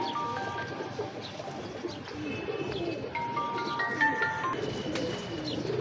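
Pigeons at a breeder's home, heard as soft, low cooing with scattered chirps and faint background noise, moderately distant and steady.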